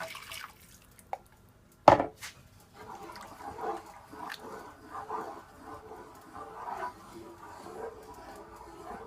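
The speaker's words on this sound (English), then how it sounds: "And I'm gonna also add some more water." Half a cup of water is poured into roast chicken gravy as it is stirred, with a sharp splash followed by quiet, intermittent liquid stirring sounds, close by and faint.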